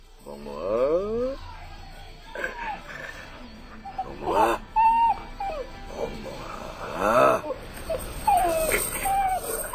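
A dog whimpering and whining in rising, sliding cries, interspersed with short yips, heard as a sound effect within a Korean audiobook dramatization.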